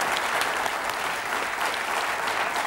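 Studio audience on a German TV game show breaking into thick, continuous applause, a loud and even roar of many hands that never lets up.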